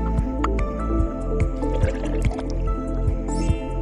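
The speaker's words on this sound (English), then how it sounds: "Now pour some vinegar into it." Vinegar is poured into a glass holding baking soda, giving close, wet dripping and squishy fizzing with rhythmic liquid pulses and no talking.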